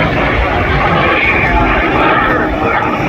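A Goodyear FG-1D Corsair warbird's piston engine roars loud and steady at an air show, a continuous broadband drone with no break, and voices may be partly masked beneath it.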